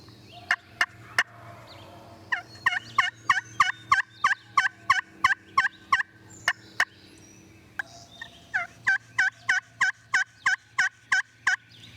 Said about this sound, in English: Man, he's gobbling.